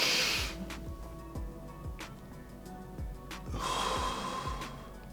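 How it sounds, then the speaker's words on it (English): Deep breathing exercise: a slow breath drawn in, held, then blown out, with airy hissing bursts near the start and again toward the end over a low steady background. "taking a deep breath in, holding it for 5 seconds, and then blowing out"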